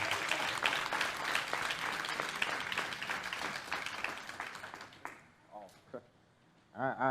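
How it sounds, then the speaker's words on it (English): Applause from a caucus meeting audience fills the room for several seconds, with voices mixed through it, then thins out and gives way to scattered talk. "let's give him a round of applause"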